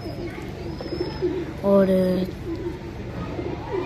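Pigeons coo softly at home, with a brief, clearer cooing call in the middle amid faint chirps and room noise, while someone talks over it.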